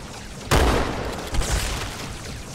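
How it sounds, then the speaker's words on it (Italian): In the video game Halo, a single loud, sharp gunshot blast hits suddenly and then a second burst follows about a second later, with a rumbling roar trailing between them. "Ovviamente sparo a quelle brutte."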